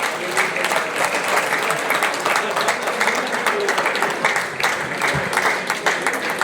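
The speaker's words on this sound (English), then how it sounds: "Please have a huge round of applause." A crowd at a sports league player auction breaks into a big round of applause, sustained dense clapping that stays loud and busy for several seconds, with a few faint voices mixed in.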